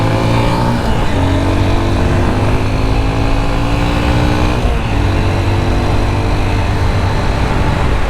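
A 2023 Honda XR150L single-cylinder motorcycle engine revs loud and close, climbing in pitch through one gear, dropping briefly at a shift, then climbing again, with steady wind and road roar underneath and no voices.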